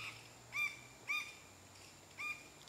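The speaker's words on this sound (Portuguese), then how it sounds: "Pica-pau tá ali, ó." A red-headed woodpecker calling in a small patch of woods gives three short, faint, high calls spaced about half a second apart over a quiet background.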